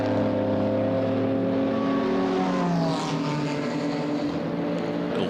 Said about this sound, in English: Little moment to soak up the sounds of GT4. There's the BMW coming through.